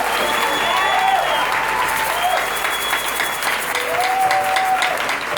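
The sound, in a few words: congregation applauding to acclaim God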